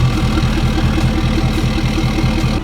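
A truck engine idling close by with its exhaust fallen off and dumping right at the cab, a loud steady rhythmic chugging throb with a deep low rumble and no pauses.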